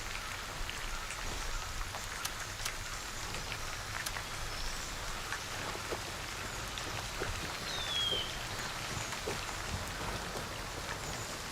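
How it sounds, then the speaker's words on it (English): Steady rain of an approaching storm pours in the Escape from Tarkov video game, a constant hiss of drops falling on surfaces, even and fairly quiet throughout with no talking. "Got a storm moving in."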